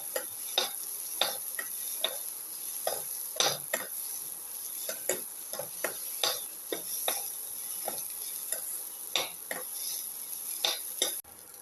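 Shallots and onions sautéing in a pan with a spiced mixture, a steady sizzle under repeated scraping and clinking stir strokes at an irregular rhythm, close and moderately loud.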